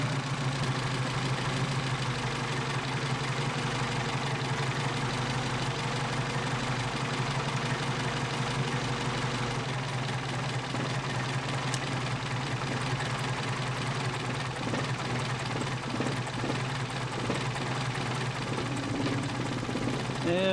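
A Mercedes 190SL engine fitted with Solex 44PHH carburetors idles steadily at low revs, a constant even mechanical drone running throughout with faint ticking and occasional slight variation.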